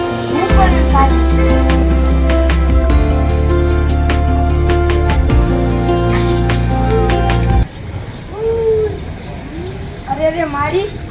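Bird chirps serve as a sound effect in a Gujarati class 7 school drama of a poem: sustained musical tones come first, then several short, rising chirps and calls sound fairly close, with voices in the scene.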